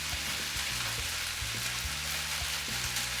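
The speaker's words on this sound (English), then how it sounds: "spread it out along the bottom of the pan and just let it cook for a couple of seconds" Vegetable fried rice spread across the bottom of a hot pan, a loud continuous sizzle and crackle with faint low thumps underneath, close and steady.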